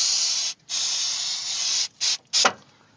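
Aerosol B12 cleaner sprayed into an open throttle body with the butterflies open: a long, loud hissing spray, a brief pause, then two shorter sharp bursts.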